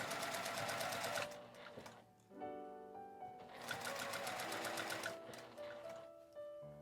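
A sewing machine stitches through a quilted lunch bag in rapid mechanical bursts, pausing briefly between runs, with no talking.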